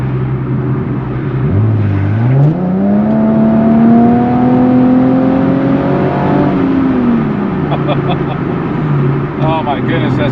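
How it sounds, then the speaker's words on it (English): Nissan 370Z fitted with a GReddy Evolution GT exhaust revs up, its engine note rising steadily, holding high, then falling back toward idle, heard from inside the cabin over a continuous drone. "the exhaust tone is definitely a lot louder"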